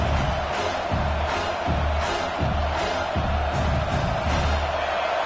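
A home stadium crowd at a South Carolina versus Arkansas Razorbacks college football game roars on third down, a loud, continuous wash of cheering with rhythmic surges like chanting or stomping.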